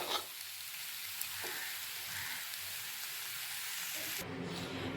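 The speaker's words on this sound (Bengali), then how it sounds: "পোস্তটাকে আমি কিছু সময় সবজির সাথে ভেজে নেব" Poppy seeds frying with drumstick vegetables in a pan, a soft continuous sizzle and hiss, close but quiet, with a light scrape near the start and a brief change in tone toward the end.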